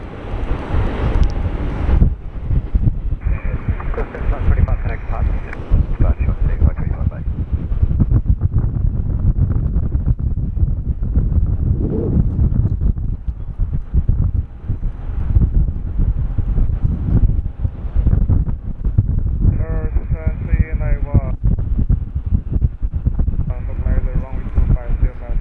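Strong wind buffets the microphone at Sydney Airport, a loud, continuous rumbling roar that stays up throughout, with people talking over it and occasional aircraft noise in the background.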